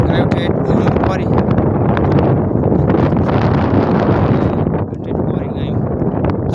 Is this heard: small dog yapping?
no